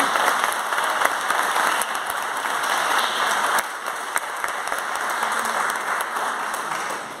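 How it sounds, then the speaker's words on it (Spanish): A church congregation applauds, a sustained wash of many hands clapping with scattered sharper claps, steady throughout at moderate level. "Le damos un aplauso al Señor"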